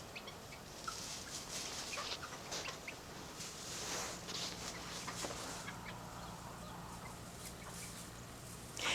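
Chickens, including a rooster and a hen with chicks in a small coop, cluck and mutter faintly and steadily throughout, soft and somewhat distant, with no talking.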